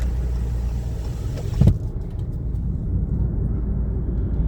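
Car cruising a run-down stretch of town past an old truck stop: a steady, close road rumble and engine drone throughout. A brief louder swell comes as something passes midway. No talking.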